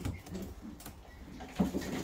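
Japanese fancy pigeons coo softly in a loft, a faint low murmur under general room noise, with a slightly stronger coo near the end.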